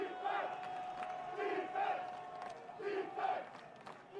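A crowd of Loyola supporters at a college lacrosse game against Maryland roars and chants in rhythmic surges, loud and sustained, rising and falling in regular waves.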